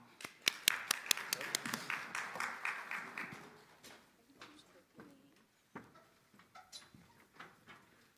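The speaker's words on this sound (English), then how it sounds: "let's give her a round of applause as she comes" Scattered audience clapping welcomes a speaker at a university diversity showcase, a brief flurry of sharp claps that quickly thins to a few isolated claps and taps.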